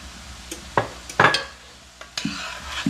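Softened cream cheese goes into a hot skillet with a spicy crab-boil mixture and gets stirred, giving soft sizzling with a few scraping, clinking stirs against the pan, fairly quiet and without speech.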